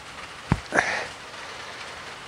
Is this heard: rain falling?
yes